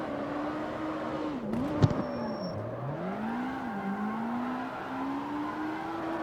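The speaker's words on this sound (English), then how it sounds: "I am sliding through all these corners" Engine of a low-class car in CarX Street drifting sideways through a run of corners, a steady drone that dips and climbs as the revs swing, with a short sharp burst near the middle.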